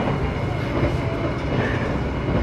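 Banyubiru Express economy train cars running on rails, a steady loud rumble with low cabin vibration and faint clatter throughout, no talk.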